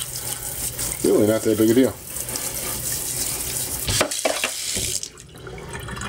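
Running water rinses mud off an RC truck, a steady close splash that briefly rises into a louder gush before easing, with a person talking over it.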